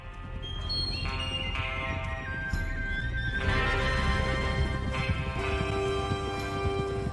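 Horses in Red Dead Redemption II, loud and steady: repeated neighs and whinnies ring out over continuous galloping hoofbeats and a dense in-game soundscape, with no talk.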